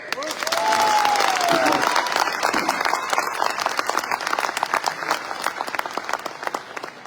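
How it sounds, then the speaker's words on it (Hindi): A large audience applauds first-time guests at a gathering in India: dense, loud, sustained clapping with a brief whoop or whistle early on, easing slightly toward the end. "उनके लिए दिल खोल के ताली बजाएं"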